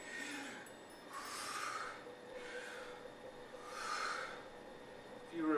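Slow, deliberate breathing during a tai chi head movement practice, with soft airy inhales and exhales swelling and fading in a steady rhythm, close and quiet, with no talking.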